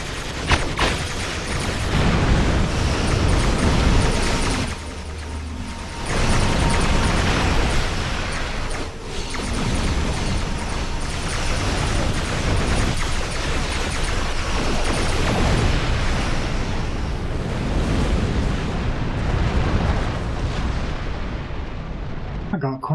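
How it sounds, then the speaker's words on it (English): Booming explosions and weapon impacts in the space combat game Star Trek Online as a quantum torpedo strikes the ship, a dense continuous barrage of blasts and rumbling that stays loud throughout. "I got a quantum torpedo to the backside there."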